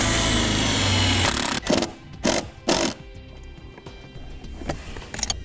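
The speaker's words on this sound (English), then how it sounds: "To attach the anchor point to the firewall, we'll use a self-tapping screw provided with the install kit." A power drill drives a self-tapping screw into the sheet-metal firewall of a 2015 Cadillac SRX, with a loud whirring drive that stops, followed by several short sharp bursts of drilling and light clatter.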